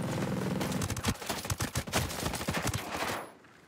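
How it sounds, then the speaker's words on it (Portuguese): Video game gunfire in a sniper shooter: rapid bursts crackle in quick succession, a busy volley of shots that tapers off and stops near the end. "Tem alguém me dando tiro aqui."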